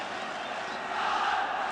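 Packed football crowd at Hampden Park for Scotland versus England, a dense, continuous roar of tens of thousands of voices, steady and swelling slightly toward the end.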